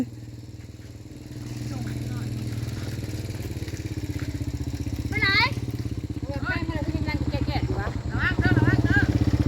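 A motorcycle engine idles and revs close by, steady for several seconds, while people chat loudly over it.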